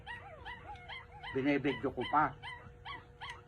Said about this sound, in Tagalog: Pati pagpapakain ko sa aso